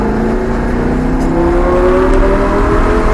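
A Lamborghini Gallardo accelerates out of a corner on the ICAR race circuit, its engine note climbing steadily in pitch, loud and close, with a constant roar and no talk.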